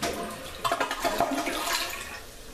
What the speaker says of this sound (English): let's test the flush